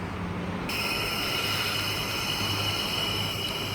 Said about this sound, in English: S107 and friend, now departing platform number 2, Liverpool service